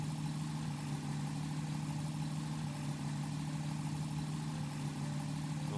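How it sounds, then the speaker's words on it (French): Simulated piston aircraft engine of a Nord 1101 Ramier, throttled down to a steady idle-like drone with a strong low hum, continuous and loud with no talk over it. "En même temps que je baisse mon régime moteur,"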